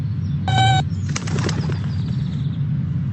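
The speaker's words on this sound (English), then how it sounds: "I also see a pigeon." A pigeon's wings clap and flutter in a brief burst of flapping, close and loud, with a short chirpy tone just before it against steady outdoor background noise.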